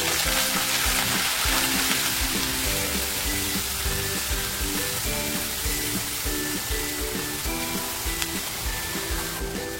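Grated onion frying in hot oil in a kadhai, a loud, steady, dense sizzle and crackle that runs close and unbroken throughout, with no talking.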